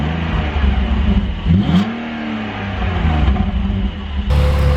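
BMW E46 330Ci with its stock exhaust, before an M3 exhaust is fitted, revving loudly: a deep idle rumble swells into a rising rev, falls back, then rumbles on with further blips.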